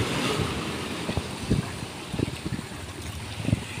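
Steady wash of sea waves and wind, with soft irregular thumps of water surging and breaking close by, no voices.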